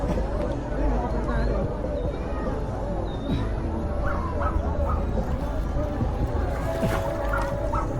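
A dog barks a few times at a distance near water by a boat, short bursts mixed with yips under steady noise and the chatter of people talking nearby.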